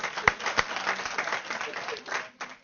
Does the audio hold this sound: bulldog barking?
no